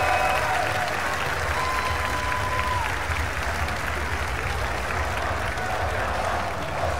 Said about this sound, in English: And the crowd is cheering for Ogawa.